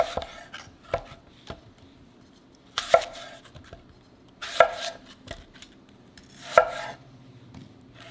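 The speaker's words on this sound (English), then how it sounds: "now we cut the Brussels sprout" A knife chopping Brussels sprouts into thin slices on a cutting board, sharp irregular chops and thuds with a few louder rapid cuts, close and without talk.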